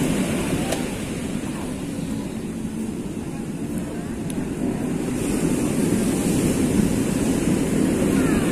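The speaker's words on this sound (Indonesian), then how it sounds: "Angin darat." Wind sweeps across Depok beach in a steady, unbroken roar, with a faint wash of surf beneath it that builds slightly toward the end.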